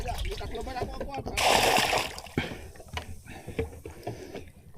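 Water poured out with a loud splashing gush lasting about a second, surrounded by people talking and the knocks and sloshes of handling it.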